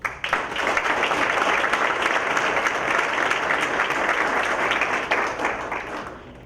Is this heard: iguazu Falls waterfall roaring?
no